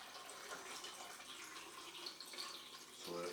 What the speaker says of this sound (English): I'll do my final rinse with the distilled water.